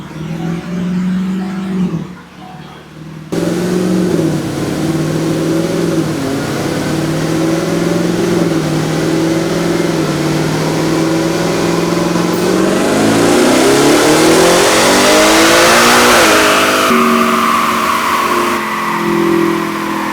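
A Ford Raptor R truck with a Whipple 3.8L supercharger, 3.8 pulley, runs on a dyno, idling loudly, then revving up in a long rising pull with supercharger whine before dropping back.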